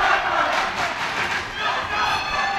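A high school boys wrestling crowd roars and cheers in a gym, a dense, loud wash of voices and shouts from fans on their feet, sustained throughout the short moment.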